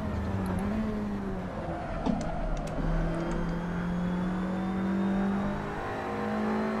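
Race car engine in a racing video game at Watkins Glen, revving and accelerating steadily with shifting harmonic whine, loud and continuous throughout with no talk.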